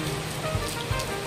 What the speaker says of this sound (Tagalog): Umuulan pa po.